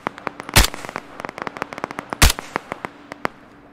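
Sniper rifle shots in the shooter game Operation Harsh Doorstop: two loud, sharp reports about a second and a half apart, with a rapid stream of fainter gunshots crackling steadily around them.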